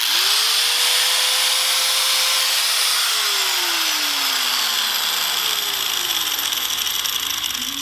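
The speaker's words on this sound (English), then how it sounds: "I'm gonna go ahead and put this on the grinder and see what happens" An angle grinder with a cutting wheel bites into bike handlebars clamped in a vise, a loud, harsh continuous shriek with the motor pitch sagging and recovering as the wheel loads up.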